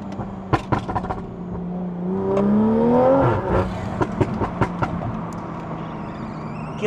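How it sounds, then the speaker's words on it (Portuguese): A powerful Toyota Supra engine revs hard, rising to a loud roaring peak mid-clip, then settles into a burbling idle with sharp crackles and pops. "Este carro berra, malta."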